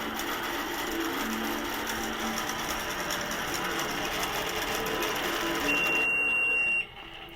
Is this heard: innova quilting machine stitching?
yes